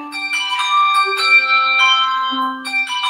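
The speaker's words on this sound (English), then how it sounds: "You get more bells." A run of bright, ringing bell tones, repeated strikes layering into a sustained shimmering chime with overlapping pitches, loud and close, heard alone without talk.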